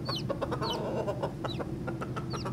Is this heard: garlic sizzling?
no